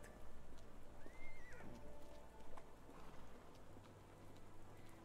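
A horse neighs once near the start of a Sherlock Holmes The Awakened game scene, then faint hoofbeats and a soft patter of rain run underneath at a steady low level.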